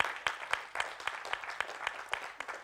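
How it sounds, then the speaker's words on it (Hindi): Applause from an audience at an interface session with actor Akhilendra Mishra, a moderate round of clapping where individual sharp claps stand out irregularly against the crowd's softer patter. "दोस्तों, बहुत बड़ी तालियां"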